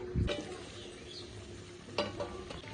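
Fried soybean fritters dropped into simmering curry and stirred, giving a soft thump and clatter at the start and another stir-scrape near the end over a low sizzling bubble.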